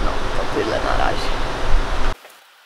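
Steady rain falls in the Swedish mountains along the Jämtland–Västerbotten border, a dense broadband hiss that stops abruptly near the end.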